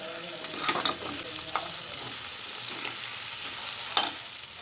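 Onion, tomato and cabbage are fried in a pan as spring roll stuffing, a constant close sizzle broken by several spatula scrapes and knocks, the sharpest near the end.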